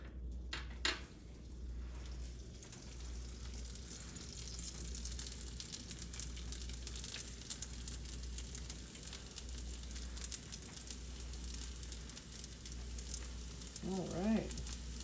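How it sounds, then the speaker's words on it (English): Dumplings pan-fry in a little oil in a nonstick pan over medium to medium-high heat, giving a steady, soft sizzle throughout, with a brief clink near the start and a faint voice near the end. "And then with pan frying, make sure you have a nonstick pan."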